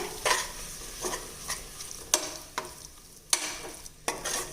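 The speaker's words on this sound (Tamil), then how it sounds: "இப்போ தயிரை சேர்த்து இந்த மாதிரி நல்லா கலந்து விட்டுக்கலாங்க" Curd being stirred into chicken masala frying in a pan, with repeated scraping stirs every second or so over a steady close sizzle.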